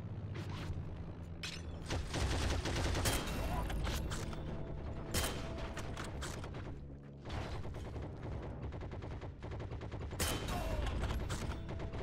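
Sniper rifle gunfire in the World War II video game Heroes and Generals, with sharp shots and bangs among dense, continuous battle noise that stays loud throughout.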